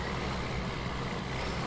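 Tractor engine in the SnowRunner video game, a steady low diesel rumble that holds evenly through a short stretch with no voices.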